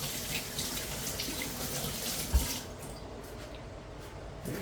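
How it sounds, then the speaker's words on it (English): Hands are rinsed under a running kitchen tap while making sourdough bread, a steady close splashing rush with one brief thump midway before the flow softens. "I'm going to rinse my hands."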